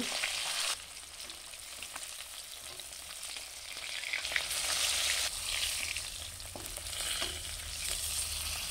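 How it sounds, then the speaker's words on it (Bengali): Rohu fish pieces fry in oil in a pan over a medium gas flame, giving a steady, close sizzle with a few soft scrapes and shifts in intensity throughout, and no voices. "ও গ্যাসের মিডিয়াম ফ্লেমে ভাজতে থাকবো। তো প্রথম পাশ হয়ে এলে দ্বিতীয় পাশে আমরা পাল্টে নেব।"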